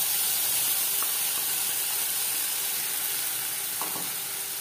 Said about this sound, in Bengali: পুর তৈরি করার জন্য সরষের তেল গরম করে নিয়েছি। এবার দিয়ে দেব ডাল বাটা।